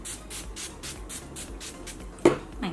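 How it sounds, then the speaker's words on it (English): Project Beauty setting spray mists onto a face in a quick series of soft, close hisses, ending with a sharper tap. "To finish everything up, I'm going to set my face with the Project Beauty Spray,"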